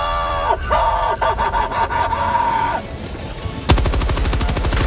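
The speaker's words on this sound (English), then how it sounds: "I have the machine gun." Automatic machine gun fire in the video game Helldivers 2: a sustained rapid burst near the end, following a busy stretch of game noise with tonal effects and scattered shots.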